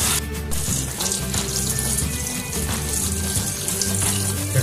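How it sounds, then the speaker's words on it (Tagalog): Fresh backyard ginger is rinsed under a running kitchen tap, a steady close rush of water splashing into a sink with no talking. "hugasan ni JB yung luya na kinuha niya dun sa ating backyard garden"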